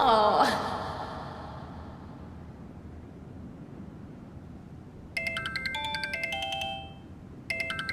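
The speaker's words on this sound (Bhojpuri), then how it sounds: "अरे केकर फोन आ गया भाई?" A mobile phone rings with a bright, repeating electronic ringtone that starts partway through, pauses briefly and resumes, following a short vocal sound and faint background hum.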